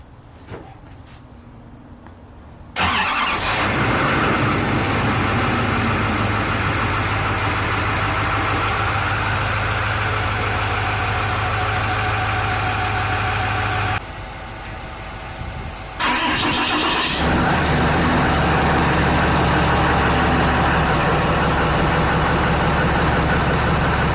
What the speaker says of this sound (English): Let's do a cold startup on both of them.